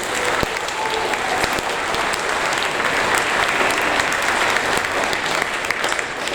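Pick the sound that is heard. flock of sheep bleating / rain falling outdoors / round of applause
round of applause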